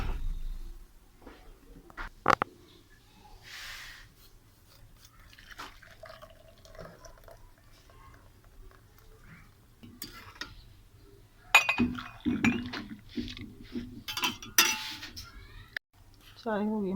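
Tea poured into a cup during a village morning breakfast routine, with trickling and dripping liquid, scattered clinks of cup and utensils, and someone talking at intervals.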